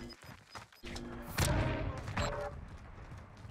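Gunfire in a Warzone match, with a few loud thumping shots and booms in quick succession, heard alongside players' voices.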